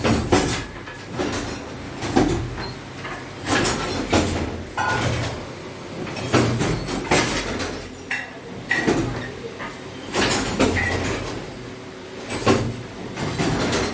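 A handloom with a jacquard machine mounted on top weaves a saree with a rhythmic, repeating clatter and thump of wooden and metal parts. The loud strokes cycle every second or two, close by, with no talking.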